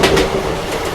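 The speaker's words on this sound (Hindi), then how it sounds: "एक्चुअल में गुजरात एक्सप्रेस ज़बरदस्त गाड़ी है।" Gujarat Express train running on rails out of Vadodara station, a steady rolling rumble with wheel clatter close by, continuous and fairly loud over its one-second span.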